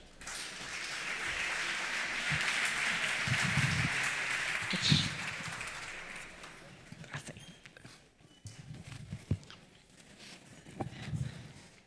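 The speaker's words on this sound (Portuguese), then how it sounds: "Uma salva de palmas para eles." Audience applause at a national business conference in a hall, a broad steady wash of clapping for several seconds that thins into scattered claps and rustling.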